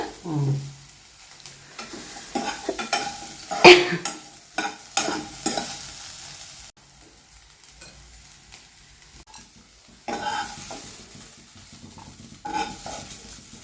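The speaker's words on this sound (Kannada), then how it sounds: "ಈ ತರ ಹುರ್ಕೋಬೇಕು ಒಂದ್ ಸ್ವಲ್ಪ ಎಣ್ಣೆ ಹಾಕ್ಕೊಂಡು" Vegetables stir-fried in a little oil for a North Karnataka palya, with steady sizzling, scraping strokes of a spatula against the pan and an occasional sharp metal clink, close and without talk.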